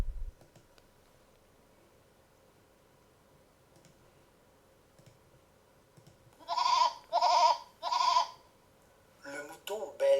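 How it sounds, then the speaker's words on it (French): A sheep bleats in a few short broken bursts toward the end of a mostly quiet stretch, fairly loud and close, with a further sharper burst at the very end. "Le mouton bêle."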